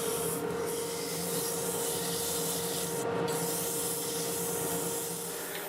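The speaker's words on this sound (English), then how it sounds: "Alright, time to do some sanding." Hand sanding of a segmented wood bowl spinning on a lathe with 220-grit sandpaper, a steady, close, raspy scrubbing hiss over a faint motor hum, with brief pauses, and no voices.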